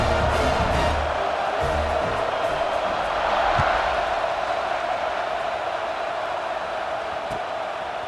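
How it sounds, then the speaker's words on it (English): A stadium crowd roars steadily in College Football 26 after a score, a dense, continuous cheering wash that holds at a fairly loud level for the whole stretch, with faint whoops in it and no clear talk. "this crowd is buzzing after that last score"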